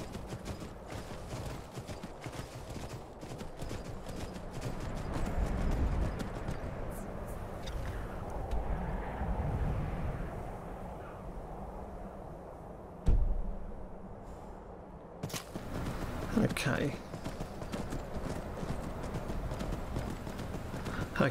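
Horse hooves gallop at a steady clip-clop rhythm in Skyrim, the fantasy role-playing game, continuous and fairly close throughout, with a brief whinny and a sharp thud partway through.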